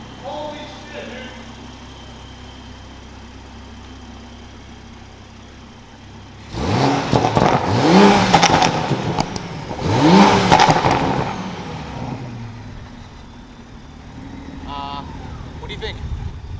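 A Toyota A90 Supra with an installed downpipe and stock exhaust revs hard twice in quick succession, each loud, close rising blast falling back to a lower rumble, with people talking before and after.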